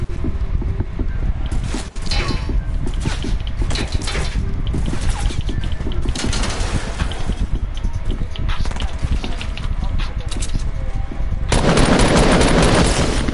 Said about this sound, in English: Why'd you start shooting at him already?